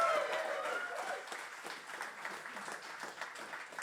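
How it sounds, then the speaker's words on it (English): Faint, diffuse crowd applause from a live comedy audience at the Cat Laughs, a dense patter of many hands that gradually softens. "Can I please get a round of applause for the man with the index finger"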